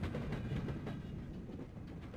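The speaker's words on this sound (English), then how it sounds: "Why is this a train sound effect?" A train sound effect from the Wrestling Empire video game: a steady, fairly quiet rumbling of a moving train with faint rhythmic clatter, continuous throughout and with no talking.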